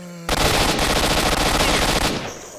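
Sustained automatic gunfire in the video game S.T.A.L.K.E.R. Shadow of Chornobyl, a loud, rapid burst of shots lasting about two seconds before cutting off.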